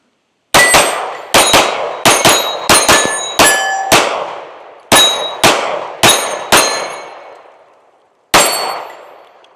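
Shots from a compact metal-frame 3.6-inch S&W pistol, roughly ten sharp, loud reports in quick uneven bursts across a magazine, each ringing off briefly, with a final single shot after a pause; no talking.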